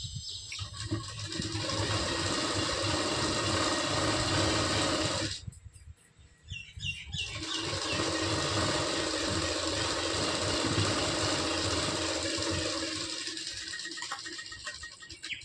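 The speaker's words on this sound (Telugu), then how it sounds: "నేనైతే కుట్టు వేసేస్తున్నాను చూడండి" A sewing machine stitches fabric piping in a fast, even mechanical whir, close and steady, pausing briefly in the middle before running on again; no talking.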